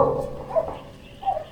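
A dog gives a few short barks and yips close by, three quick bursts within a second and a half, with no talk over them.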